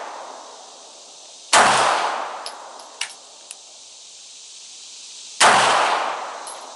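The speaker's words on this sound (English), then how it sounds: "all these rounds I'm shooting through this again today, these are Blazer aluminum cased" A CZ P07 pistol fires Blazer aluminum-cased rounds at a shooting range: two sharp, loud, close shots several seconds apart, each trailing off, with a few small metallic clinks in between.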